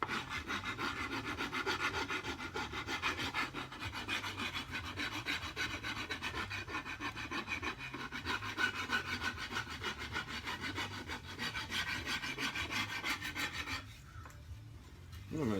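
Rasp filing a wooden walking stick, a rapid rhythmic rough scraping of repeated strokes up close, continuing steadily before dropping off near the end.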